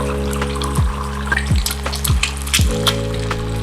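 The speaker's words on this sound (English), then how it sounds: "So now the egg is cooking. As you can see, oil is splattering, so be careful." An egg fries in smoking-hot oil, the oil splattering and crackling in a steady sizzle, with a few sharp pops and periodic scraping sweeps close by.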